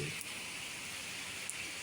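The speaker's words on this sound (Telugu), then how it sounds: "గాలులతో కూడిన మంచి భారీ వర్షం" Heavy, wind-driven rain falling steadily over the town of Ongole, a dense even hiss throughout with a couple of faint brief knocks, and no talk.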